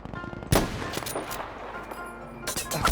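Machine gun fire in the World War II shooter Battlefield V, a sharp burst of rapid shots opening the stretch, scattered distant reports after, then another quick volley near the end.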